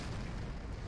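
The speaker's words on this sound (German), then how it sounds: "Und damit explodierte unser Shuttle." A shuttle explodes in the space survival video game 60 Parsecs with a deep, rumbling, continuous boom that fills the whole short moment, loud and without speech.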